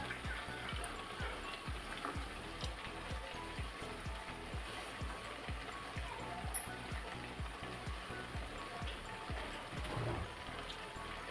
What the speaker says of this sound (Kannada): ನಂತರ ಈಗ ಇದಕ್ಕೆ ನೆನೆಸಿರೋ ಕಡಲೆಕಾಳನ್ನು ಸೇರಿಸ್ತಾ ಇದ್ದೀನಿ